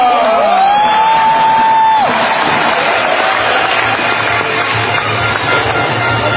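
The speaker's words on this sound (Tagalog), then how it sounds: "please welcome milyong-milyong palakpak para kay Mr. Rafi Ventura!" A large crowd applauds and cheers, a dense wash of clapping that holds steady after a brief sliding tone at the start.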